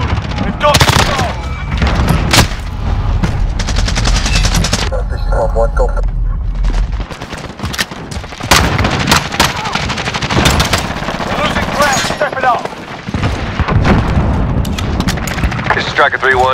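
Explosions from an airstrike and bursts of automatic gunfire in Modern Warfare gameplay with a SIG Sauer MCX Rattler, loud and close, with heavy booms and rapid rattling shots throughout, and short radio-style voice callouts in places.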